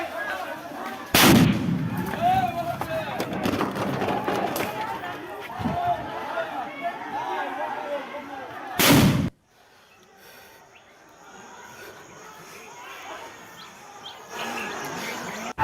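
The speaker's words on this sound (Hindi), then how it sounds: "फायरिंग हुई, गोली चलने की आवाज काफी दूर तक सुनाई पड़ रही थी।" Gunfire outside a polling booth in Murshidabad during violent Bengal elections: two loud, sharp blasts several seconds apart, ringing over a restless background of crowd noise and voices.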